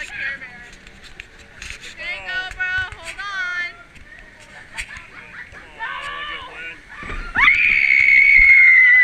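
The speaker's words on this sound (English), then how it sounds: "Is that loud enough scream for you?" Riders scream on a Disneyland amusement park ride, with excited voices and shouting building into a loud, sustained high scream near the end, close and dominant.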